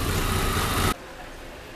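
A 1997 Volkswagen Jetta engine with a noise fault and the oil warning light on runs steadily and loudly, then cuts off abruptly midway, leaving a quieter background hum.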